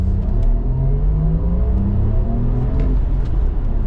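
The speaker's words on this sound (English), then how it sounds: "That was a very quick 2-second blip on the throttle" A 2024 Porsche Macan Turbo S in Sport Plus mode gives a quick throttle blip, a deep steady engine rumble with rising and falling tones from inside the cabin, fairly loud with no speech.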